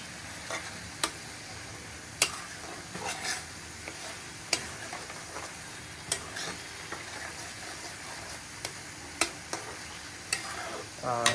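Spinach and dried fish fry with steady sizzling while a utensil scrapes and taps the pan in irregular sharp clicks as spices are stirred in.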